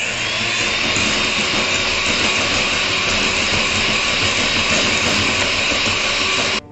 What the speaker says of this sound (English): again I will start whisking it